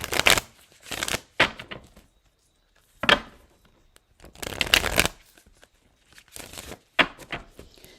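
Tarot cards being riffled and shuffled in several short bursts, crisp papery flutters close up separated by quiet pauses, with no talking.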